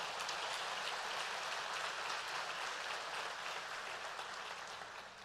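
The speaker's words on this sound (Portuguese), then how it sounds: "Pode dar uma salva de palmas ao Senhor." A congregation in church applauds continuously, a dense, even, hissing wash of many hands at some distance, slowly fading near the end.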